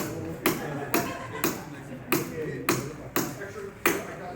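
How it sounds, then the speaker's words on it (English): Sharp snapping clicks of a spring-loaded center punch hit glass about eight times in a steady rhythm, each a crisp close impact. "You use a spring-loaded Centerpunch"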